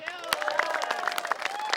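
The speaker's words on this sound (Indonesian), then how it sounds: "Tepuk tangan dong buat Rita Hasan" A studio audience at a television show claps for Rita Hasan. Crowd clapping and cheering run under a loud voice that talks over the whole stretch.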